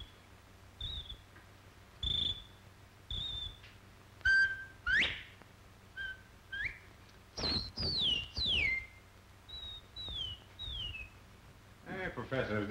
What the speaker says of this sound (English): If you take this bottle and you whistle in it